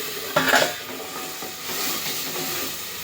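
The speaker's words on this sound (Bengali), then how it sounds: "এবার একটু ভালো করে মিক্স করি।" A spoon stirs spices, cumin, black pepper, onion, garlic and ginger in a pan. A sharp clank comes first, then soft scraping and a faint sizzle, close up and with no voices.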